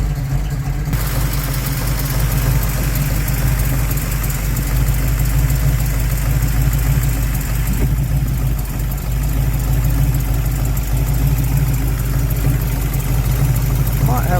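A 1969 Chevrolet El Camino with a 454 V8 idles roughly while missing on at least two cylinders, a loud, steady low rumble throughout with an uneven lope.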